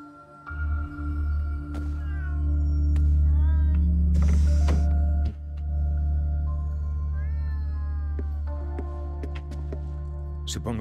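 Cats meowing in Ghostwire: Tokyo, several clear rising meows over a steady low game drone, with a loud whooshing burst partway through.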